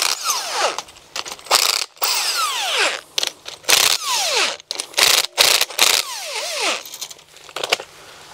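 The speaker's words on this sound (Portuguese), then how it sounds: "Uma máquina de impacto para podermos desapertar o serra-cabo." A power impact wrench loosening a cable clamp, firing in repeated loud, close bursts of rapid hammering, with short gaps between the bursts and a revving whine as each one starts and stops.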